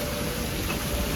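Rain falls steadily on a mountain ride to Chopta, a dense continuous hiss with no breaks and no voices.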